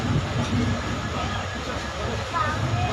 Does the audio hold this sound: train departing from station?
yes